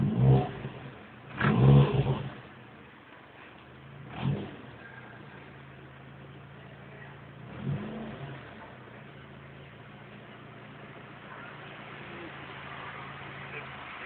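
A stock Mitsubishi Lancer 4G63 SOHC EFI engine running on E85 fuel idles steadily at a fuel station, with a few short revs rising over the low hum and voices speaking nearby.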